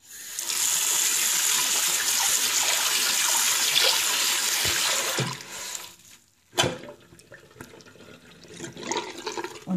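A tap runs full for about five seconds to rinse a limescale-scrubbed surface after sponging. Water gushes loudly and close, then stops, and a few splashes and small knocks follow.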